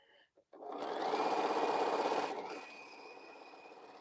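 A sewing machine stitches quilt pieces together in a close, steady whir that runs for a couple of seconds and then eases to a softer hum, with a brief pause before it starts.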